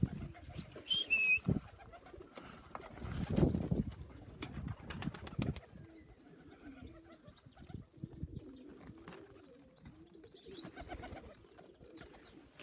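Pigeons coo at a loft, soft throaty calls repeating near and far, with a few chirps, brief wing flaps and a clattering burst partway through; no one speaks.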